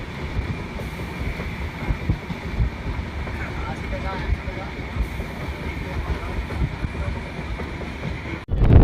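Steady rumble and rattle of a passenger train running from Madurai to Ramanathapuram in Tamil Nadu, with wind buffeting throughout and a sharp jolt near the end.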